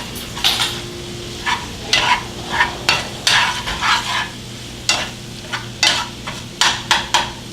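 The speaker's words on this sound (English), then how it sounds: "drop a couple of pinches of fresh cilantro in and mix it around" Fresh cilantro being stirred into turkey or tofu taco filling in a pan, with a spoon scraping and clacking in short regular strokes over a soft sizzle, close and fairly loud, with no talking.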